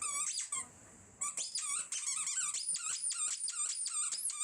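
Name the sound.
dog playing with a squeaky toy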